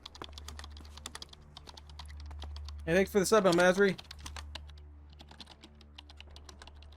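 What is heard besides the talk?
typing on a computer keyboard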